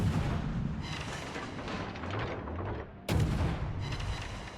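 Warship guns firing in a naval combat game at a battleship target: heavy booming salvos over a dense, rumbling battle backdrop, with one sharp loud report near the middle.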